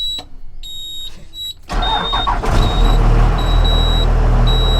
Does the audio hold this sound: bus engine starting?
yes